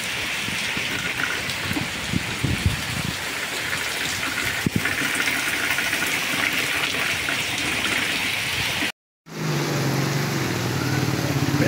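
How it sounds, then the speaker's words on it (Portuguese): Steady, dense rush of heavy rain pouring down in the Brazilian sertão, continuous broadband hiss filling the whole stretch, with a brief dropout near the end before resuming. "E o céu tá fechado e tá caindo muita chuva."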